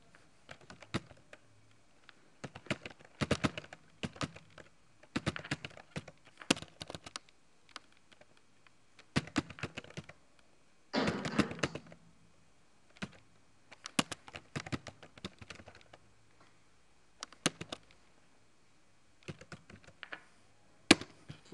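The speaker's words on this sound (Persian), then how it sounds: "تایپ میکنی" Bursts of typing on a computer keyboard while entering text in MS Word, clustered key clicks in irregular runs separated by short pauses, fairly close and with no talking.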